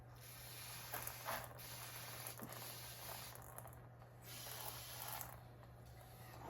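Brake cleaner sprays from an aerosol onto the carburetor of a Yamaha Venture/SXR 600 Red Head snowmobile in several short, faint hissing bursts over a low steady hum.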